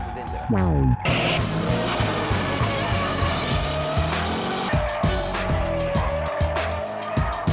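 A loud car engine revs hard while tires squeal in long sustained screeches during competition drifting, the pitch sliding as the car skids; a voice speaks over the noise.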